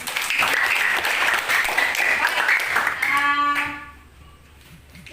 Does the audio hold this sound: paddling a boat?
no